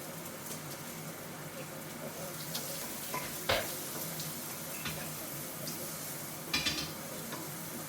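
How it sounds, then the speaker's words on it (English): Onion, ginger, garlic and chilli sizzle steadily in hot peanut oil, a continuous close frying hiss with occasional stirring clinks and scrapes of a pan. "In goes the aromatics. Onion, ginger, garlic and chilli."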